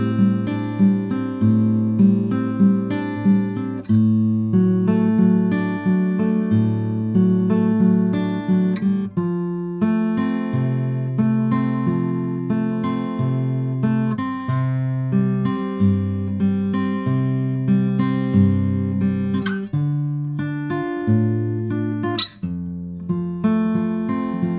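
Fingerpicked acoustic guitar playing the verse of a song from Frozen 2, with steady picked notes over sustained low bass strings, continuous and close, no voice.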